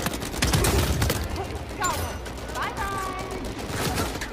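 Weapon fire in the Uncharted 4 video game, a quick burst of several shots followed by lighter game effects and whooshes, with someone talking over it.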